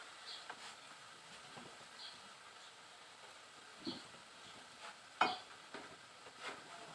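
Karen sour curry with apple snails and pea eggplants being stirred in a pot: soft scraping and sloshing with a faint simmering sizzle, a few sharper knocks of the spoon against the pot, close and fairly quiet.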